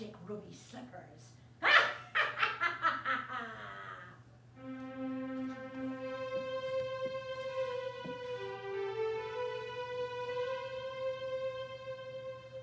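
A dog barks in a radio drama production of The Wizard of Oz, a burst of several quick yips and barks near the start, followed by a sustained tonal music or voice passage.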